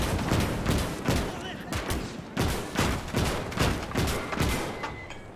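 Gunfire aimed at tanks in the war video game Call to Arms rattles in loud, dense bursts and repeated heavy reports, with a voice faintly present beneath the shooting.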